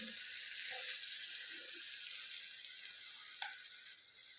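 Potato cutlets fry slowly in oil in a pan over low heat, giving a steady, even sizzle that stays close and continuous throughout, with no voices over it.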